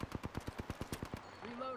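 In Apex Legends, a rapid automatic burst of about ten evenly spaced gunshots rings out loud and close, then gives way to brief electronic chimes.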